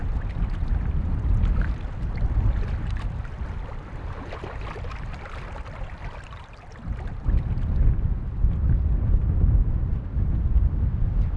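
Strong gusty wind buffeting a microphone at a wilderness campsite in the autumn fells, a loud roaring rumble that surges, briefly dips, then swells again, with no voices.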